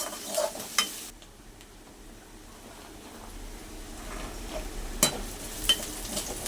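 Onions frying in a pan until light brown give a soft, steady sizzle, with a few sharp clinks and scrapes from a stirring spoon, close and fairly quiet.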